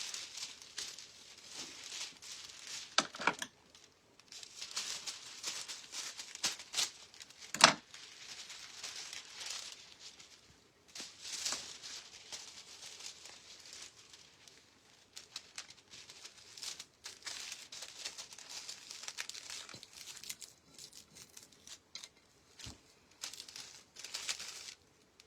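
Foil clay pot being cut in two, a long stretch of soft crinkling and crackling foil with scattered small snips and taps, faint and close, no talk.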